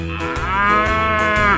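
A single long, loud, close moo from a bull or cow, steady and drawn out for over a second, heard alone with no talking.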